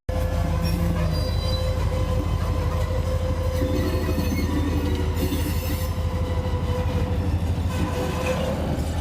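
A freight train hauling LP propane tank cars rolls steadily past at close range, a continuous loud rumble of wheels and rail noise with faint squeal, no voices.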